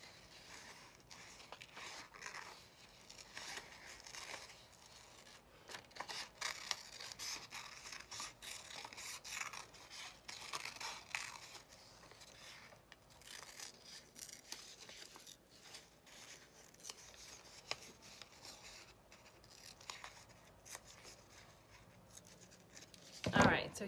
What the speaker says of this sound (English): So I'm just cutting as carefully as I can.